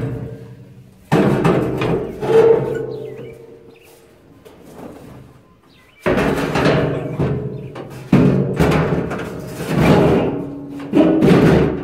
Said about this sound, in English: So let's get the gasoline tank back in.